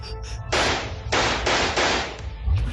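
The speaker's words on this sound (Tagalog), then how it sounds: "Sunod-sunod na putok ng bala ang aking narinig bago napatras ang aswang na si Delilah" Gunshot sound effects in a Filipino horror audio story, four loud sharp bursts in quick succession, the middle three nearly back to back, heard alone without speech.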